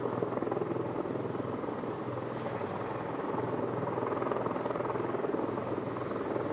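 A military helicopter at a Marine aircraft demonstration at Arlington Park drones steadily with a continuous rotor roar throughout, fairly distant and even in level.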